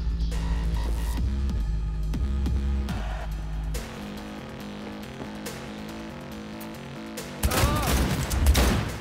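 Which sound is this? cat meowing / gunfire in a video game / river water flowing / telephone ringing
gunfire in a video game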